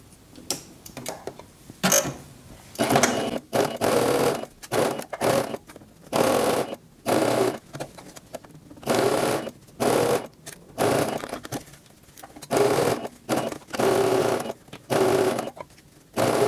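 A sewing machine stitches a fabric face mask in repeated bursts of rapid whirring, about a dozen runs separated by short pauses, close and clear with no talking.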